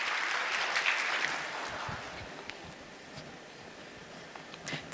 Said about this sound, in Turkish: Bir alkış istiyorum